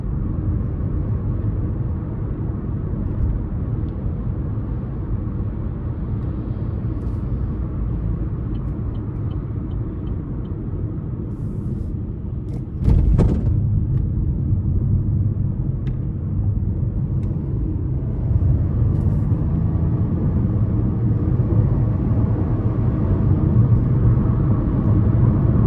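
A 2024 Chevrolet Trax LS with a 1.2-liter turbocharged three-cylinder accelerates up an interstate on-ramp, giving a steady low engine drone and road rumble heard from inside the cabin, with one brief thump midway after which the noise grows slightly louder.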